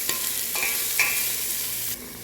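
Onions fry in a hot pan for lomi, a dense, close sizzle with a few utensil scrapes and a sharp clink, then the hiss eases slightly near the end.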